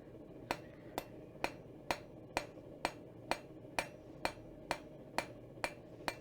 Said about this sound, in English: Next up, hammer juggling.